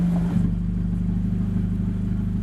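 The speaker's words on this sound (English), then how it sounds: "I don't know if you caught the exhaust sound" An Abarth Competizione engine rumbles steadily with a deep, throaty exhaust note through a Record Monza exhaust, a brief rev at the start settling into a constant low idle-like drone.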